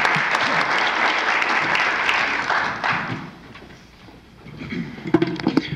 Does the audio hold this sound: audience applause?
yes